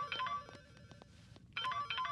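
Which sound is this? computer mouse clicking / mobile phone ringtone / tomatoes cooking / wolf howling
mobile phone ringtone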